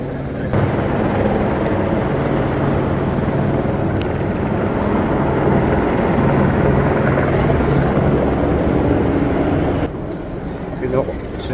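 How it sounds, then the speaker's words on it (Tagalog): A loud helicopter thrums steadily overhead for several seconds, its rotor roar filling the air before cutting down abruptly near the end. "Kaya kung marinig nyo talaga, mga helicopter ito,"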